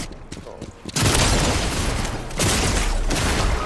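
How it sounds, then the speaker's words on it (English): Shotgun fire in the video game Fortnite: after a quieter start with light clicks, loud blasts and a sustained burst of gunfire hit at once, with a second heavy blast following soon after, close and forceful. "he got me with the shotgun."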